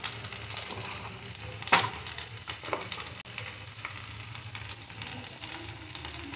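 Powdered spices sizzle in hot oil for a Maharani brinjal dish, a close, continuous frying hiss with a few stirring scrapes and clinks, no talking.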